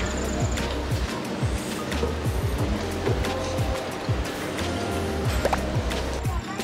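Ocean waves wash steadily in front of a seaside cafe in Okinawa, a continuous, fairly loud surf roar with no clear breaks, and faint background sounds mixed in.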